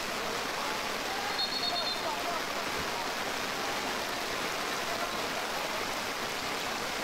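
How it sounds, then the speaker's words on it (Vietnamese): Rain pours down over an outdoor amateur football match, a dense, even hiss of steady downpour filling the whole stretch at moderate level with no clear voices. "Mưa đang ngày một to hơn."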